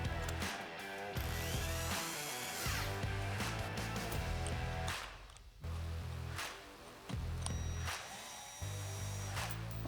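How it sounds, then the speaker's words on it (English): A power tool whirs in bursts on the 7mm bolts under a Ford dash, each spell of buzzing broken by short pauses, close and fairly loud with ratcheting mechanical texture. "Begin the installation by removing the two 7mm bolts at the bottom of the dash."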